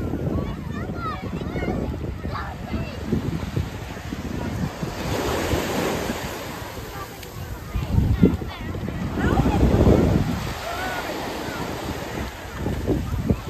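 Atlantic Ocean waves break and wash onto the beach at Halifax, with surges swelling around the middle and end, buffeted by wind noise on the microphone while people talk nearby.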